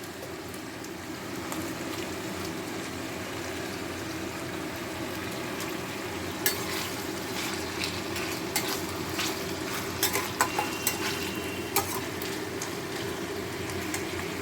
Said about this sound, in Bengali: কিছুক্ষণ পরে সবজি যখন অল্প অল্প নরম হয়ে আসছে তেলে, তখন এতে আমি কিছু মাছের টুকরো দিয়ে দেব